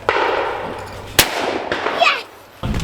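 Shotgun fire at clay targets on an outdoor shooting ground in the UK: several sharp, loud reports, one especially close and punchy, with muffled talk and a hazy background between the blasts.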